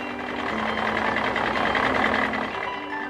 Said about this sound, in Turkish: Robot traktörün direksiyonuna geçti. Artık tarlaya gidiyoruz.